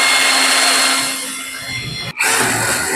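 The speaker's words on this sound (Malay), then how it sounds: "Fungsi yang kedua adalah untuk kita nak tebuk aluminium macam ni" An aluminium door frame being bored with a drill driver gives a loud, steady grinding whine that holds for about two seconds, dips and breaks off sharply, then starts again.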